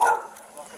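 A dog gives a short, fairly loud bark or yip right at the start, then falls away to quiet room noise. It happens inside a Florida home as law enforcement arrives.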